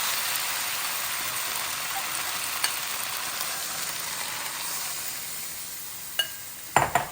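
A peanut stir-fry mixture hits a hot pan and sizzles in a steady, loud, broadband hiss, with a few sharp clinks and pops of utensils near the end and no talk.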